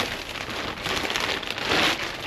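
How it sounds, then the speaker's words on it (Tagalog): Steady rain falls while someone is dumpster diving, a close, continuous pattering hiss on surfaces with no voices. "Kasi po, umuulan."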